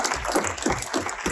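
An audience at a cannabis supply chain panel discussion at a Calgary event applauds briefly, a short burst of moderately loud, blurred clapping from a room of people.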